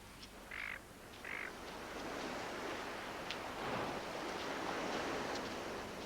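Surf rolls onto a long, flat, straight beach on the Gulf of Carpentaria near Cape York, a broad continuous wash that swells and fades, with a couple of short tonal calls early on.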